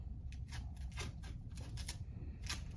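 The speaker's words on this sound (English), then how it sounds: "Take my last piece of tape off." Close by, a strip of medical tape is peeled off a patient's skin during an abdominal wound dressing check, producing a series of short, crisp tearing rasps over a low room hum.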